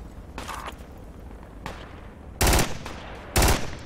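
Gunfire from G53 rifles in the military shooter Project Reality: a few loud, sharp bursts crack out, with fainter distant shots between them and no talk.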